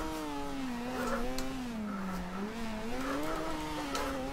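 Car in Forza Horizon 2, driven with a wheel, skidding out of control after touching grass: a steady engine drone wavers up and down in pitch with tyre scrub over it, loud and continuous throughout.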